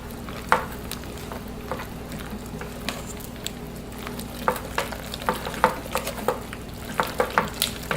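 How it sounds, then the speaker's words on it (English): Cheese gets stirred into a hot macaroni sauce in a pot, spoon scrapes and soft knocks repeating irregularly over a low, steady sizzle and bubble, with no voices. "Turn it off, add your cheese, mix it in"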